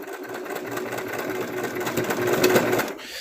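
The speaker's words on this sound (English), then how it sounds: "Should be able to sew all the way down." A sewing machine stitches a seam on a mushroom slug plush prototype with a steady, close, continuous whirring drone for about three seconds before stopping abruptly.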